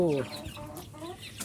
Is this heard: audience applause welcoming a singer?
no